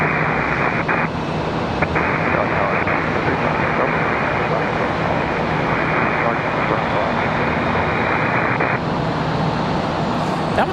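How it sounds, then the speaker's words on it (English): A Republic Airways jet arriving at Charlotte Douglas airport from LaGuardia gives a steady, broad engine roar that holds throughout, loud and continuous with no other distinct sounds. "Republic Airways 5741 coming in from LaGuardia."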